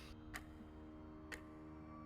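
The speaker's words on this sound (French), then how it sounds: "Vous entendez un tic-tac autour de vous." A ticking clock sound effect gives two sharp, faint ticks about a second apart over a steady background drone.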